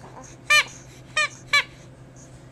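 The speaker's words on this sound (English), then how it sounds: "You got your little squeaky toy in your arm." A baby's squeaky toy gives three sharp, bright squeaks, two close together after the first, against a quiet indoor background.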